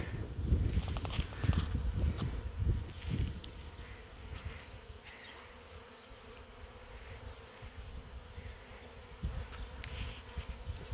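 A swarm of bees in a tree, a steady low buzzing hum with louder close passes early on, continuous across the whole stretch with no voices.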